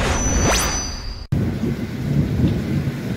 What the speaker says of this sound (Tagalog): Malalakas na kulog at kidlat naman ang naranasan sa Samal, Bataan